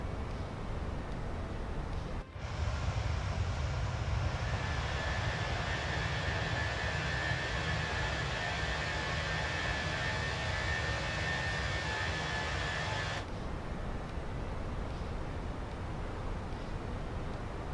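Fenix A320 jet engines in a flight simulator game roar as a steady, loud broadband drone with a low rumble and a high whine, starting abruptly and cutting off sharply after about eleven seconds.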